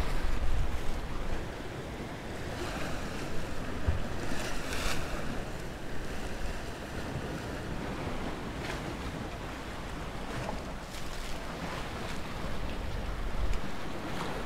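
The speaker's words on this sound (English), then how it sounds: "Sea's starting to get really choppy." Choppy sea waves washing steadily onto the shore during an evening of float fishing, a continuous loud rush of surf with gusty wind buffeting close by.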